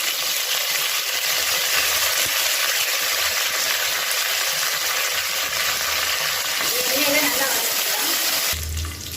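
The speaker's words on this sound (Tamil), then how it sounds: "இது எல்லாமே நல்லா பொரியட்டும்." Fennel seeds and spices fry in hot oil in a pan for chicken curry, giving a steady, loud sizzle that runs unbroken before cutting off abruptly near the end.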